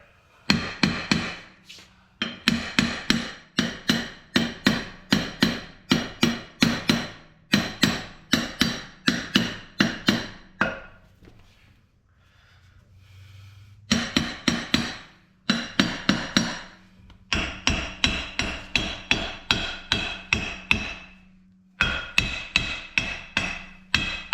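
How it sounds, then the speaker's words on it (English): Sledgehammer pounding on the brake parts of a Dodge Durango during wheel cylinder and brake master work: long runs of loud, rapid metallic blows in bursts, with a few short pauses between volleys. "Sledgehammer's always the answer, right?"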